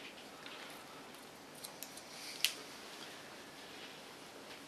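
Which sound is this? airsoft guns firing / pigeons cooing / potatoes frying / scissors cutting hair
scissors cutting hair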